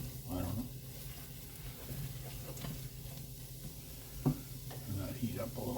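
Onions for French onion soup being stirred as they sizzle and caramelize in a pan, a low steady frying hiss with soft scraping strokes and one sharper knock, with faint voice-like murmurs in the background.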